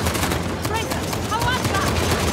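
Gunfire in Uncharted: The Lost Legacy, a dense rattle of rapid shots and bursts running steadily throughout, loud and close, with a voice speaking over it.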